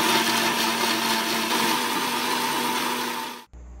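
A mixer grinder blends fish marinade with oil and salt for grilled fish, a loud steady whirring run of about three and a half seconds that stops abruptly, with no talk over it.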